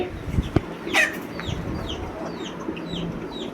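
Asil chickens cluck nearby in short bursts, with several quick high chirps scattered through, over a low background murmur.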